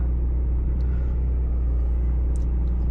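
Porsche 718 Cayman GTS 4.0 engine rumbles, a steady, loud, low drone heard from inside the car with no talking.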